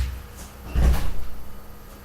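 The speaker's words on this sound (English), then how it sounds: "There's somebody at the door." A door is opened for someone who has come to the door: one muffled thump and clunk of the latch and panel, heard faintly in a quiet room with no talking.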